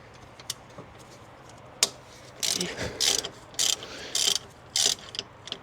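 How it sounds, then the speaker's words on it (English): A spanner working a 12mm bolt loose on an NB2 Mazda Miata, with clicking ratchet-like bursts that grow into a run of loud, rhythmic metallic rasps close by. "I need to use a spanner on the other side"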